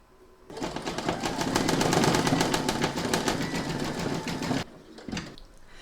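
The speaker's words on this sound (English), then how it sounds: "Load the black into your machine for the pupil of the eyes, and then you're going to stitch round number 10." An embroidery machine stitches an eye pupil in black thread on a large double-sided Santa applique, a rapid, steady mechanical chatter that runs about four seconds, close and loud, then stops and gives a few short stray clicks.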